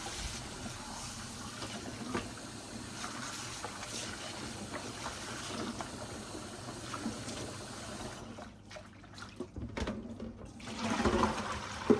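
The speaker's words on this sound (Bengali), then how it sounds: "এই তো এখন ভালোভাবে ধুয়ে নেব সব কিছু" Fresh bottle gourd leaves are washed by hand in water in a home kitchen, giving continuous sloshing, splashing and dripping up close at low level, with a brief pause and more rinsing near the end; no talking.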